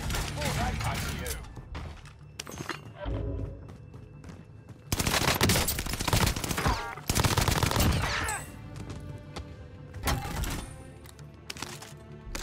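Bursts of automatic gunfire from an Owen gun in the Warzone video game, loud rapid volleys in several separate stretches with quieter gaps, mixed with game sounds and talk.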